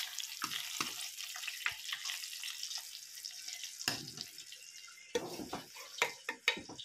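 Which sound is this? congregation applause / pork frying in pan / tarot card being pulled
pork frying in pan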